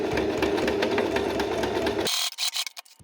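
A sewing machine runs steadily for about two seconds, stitching a small ring attachment onto fabric for a baby play mat, then stops, followed by a few faint handling clicks and rustles.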